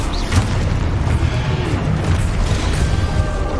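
Confringo fire spell in Hogwarts Legacy bursting into a heavy, sustained booming explosion with a dense low rumble that fills the whole moment, loud and continuous amid combat.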